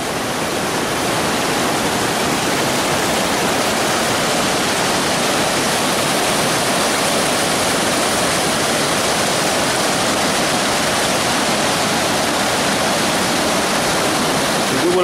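The flooded Rivière des Remparts rushes through its riverbed in a dense, steady, loud roar of churning water that stays constant from start to finish, with no voices.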